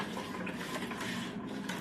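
Sugar being stirred into a gallon of cider for a blueberry hard cider: a faint, continuous scraping swirl of a utensil against a container, soft and steady with no voices.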